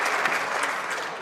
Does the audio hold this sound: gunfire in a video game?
no